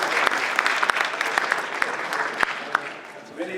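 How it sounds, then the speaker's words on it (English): An audience claps steadily for a graduating class of Trenton firefighters at a fire academy ceremony, the dense applause continuing before tapering off near the end. "Could you guys give them another round of applause,"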